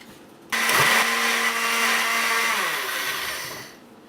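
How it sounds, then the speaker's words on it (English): Electric kitchen blender briefly re-blending a homemade salsa sauce for huevos rancheros: it switches on abruptly with a loud, steady whirring motor that runs for about three seconds, then winds down in pitch as it stops, with no talk. "I'm just going to blend it again for a few more seconds just to incorporate that."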